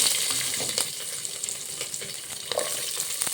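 Whole spices and green chilies frying in hot oil for bagara rice, a dense, steady sizzle throughout with a few sharper crackles and pops, close and alone with no talking.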